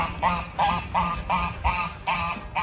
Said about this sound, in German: Die Gänse schimpfen schon wieder.